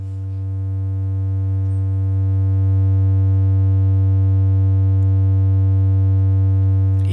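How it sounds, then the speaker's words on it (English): A steady, smooth triangle-wave synthesizer oscillator tone holds with a rich buzzing hum, sustained and unchanging for several seconds before cutting off abruptly. "Here comes the clean triangle."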